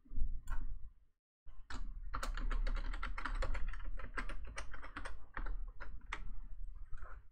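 Password keystrokes on a computer keyboard, entered while configuring password settings in Active Directory: a rapid run of close, crisp key clicks with one brief pause near the start.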